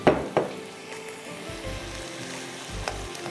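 Minced meat (keema) sizzles and fries in a pan with a steady crackle, broken by a few stirring scrapes near the start and some low knocks.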